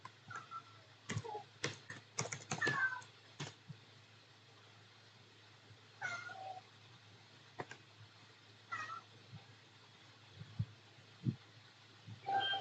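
A cat gives several short, quiet meows spread through the clip, mixed with scattered taps on a computer keyboard in a quiet indoor room.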